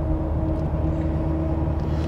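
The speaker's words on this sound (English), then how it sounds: "So we're cruising down the road, running about 50 on the speedometer." Lifted Ford F250 pickup on 26-inch wheels with a coilover lift cruising down the road at about 50 mph, a steady low engine and tire drone heard from inside the cab with no talk.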